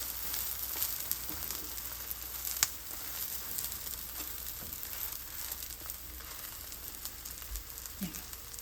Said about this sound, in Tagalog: Ito ang ating fried tofu.